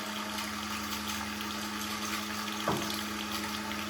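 A cream separator separating milk gives a steady mechanical whir with a constant hum and liquid rushing, running continuously without pause; a brief thump near the end.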